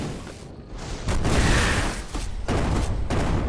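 Explosions in the Shardpunk video game: a run of loud, dense blasts and crackling bursts that roll on almost continuously, with short dips between them and no voices.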